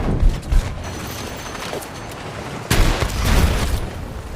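Battlefield 6 combat with a salvo of gunfire as soldiers parachute down; sharp bursts and booms punctuate a steady battle din, growing louder in the second half.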